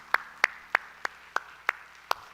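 In a church, a single person claps seven times in a steady, evenly spaced rhythm. Each clap is close and sharp, and there is no crowd applause around it.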